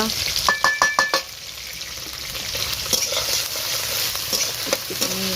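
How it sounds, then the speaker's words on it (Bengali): Ginger and green chillies hit hot oil and sizzle steadily, opening with a quick run of sharp spatula taps against the pan, then continuing with stirring scrapes over a constant frying hiss. "তো এবারে দিয়ে দেবো আদা আর কাঁচা লঙ্কা"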